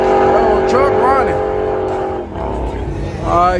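A truck engine runs loud and near at a night motorsport event, holding a steady droning tone with brief swells while people talk over it.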